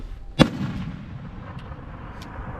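One sharp gunshot from a small gun cracks out near the start during combat near Bakhmut, close and loud, followed by a fading echo and a couple of faint distant pops over low background noise.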